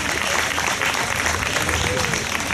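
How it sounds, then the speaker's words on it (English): Audience at a Mahatma Gandhi Day event applauding performers from the Empty Hands Pilgrimage; a steady, dense wash of clapping holds throughout at moderate level, with faint voices mixed in. "Another round of applause to our performers from the Empty Hands Pilgrimage."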